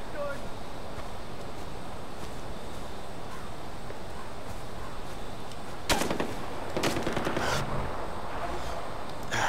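Gunfire in the shooter game Far Cry 4, a few sharp bursts of shots cracking out around the middle of the stretch over a steady background bed of game ambience, with a person talking throughout.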